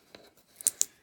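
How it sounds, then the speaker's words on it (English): Scissors trim paper for a small Easter basket craft, a few quick crisp snips close by, the last two sharpest, in a quiet room with no talking. "Now this part we can just trim off with our scissors"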